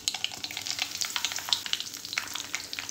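Mustard seeds, fenugreek and curry leaves sizzle in hot oil for an elephant foot yam pickle, giving a dense, steady crackle of small pops close up with no talking.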